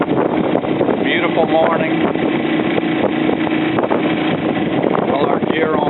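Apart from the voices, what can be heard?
small boat outboard motor running on the Everglades waterway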